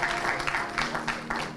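An audience claps at a Peekskill Youth Bureau Women's History celebration, with steady applause and a few sharper bursts of clapping throughout, without talk.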